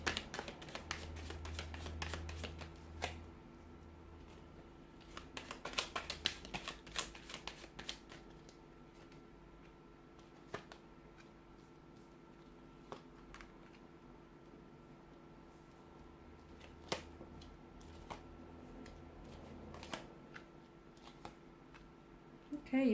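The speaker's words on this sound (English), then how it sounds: "So we'll give the cards a shuffle" Tarot cards riffle and flutter in repeated bursts, close and quiet, with pauses and soft handling noises between shuffles.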